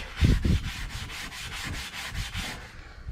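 Steel wool scrubbing rust off vehicle chrome, heard up close as rhythmic back-and-forth rasping strokes, about four per second, loud and steady with no talking.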